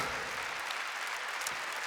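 Steady audience clapping fills a Christmas concert show, a brief, even burst of applause from a crowd, moderately loud with no voices over it.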